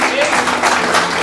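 Wedding congregation at a church ceremony in Pomacocha claps in a brief, loud burst of close applause, with a voice speaking over it.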